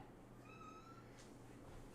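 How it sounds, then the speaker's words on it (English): A house cat gives a single faint, drawn-out meow indoors against a quiet background. "you meowed. You meowed."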